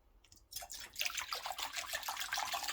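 Vinegar is poured into a sheet pan close by, a bright, splashing trickle that starts after a brief pause and keeps flowing steadily.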